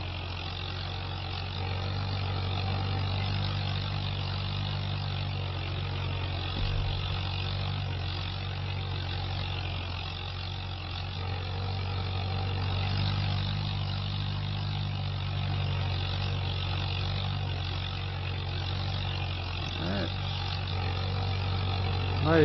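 A tractor engine drones steadily at a constant low rumble while drilling winter wheat seed, a continuous loud mechanical hum that holds without change.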